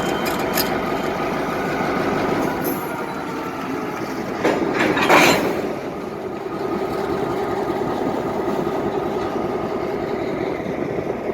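The Mark Twain Zephyr train rumbles on the rails with a steady rhythmic clatter and engine drone, a brief louder burst of hiss and squeal in the middle, no voices.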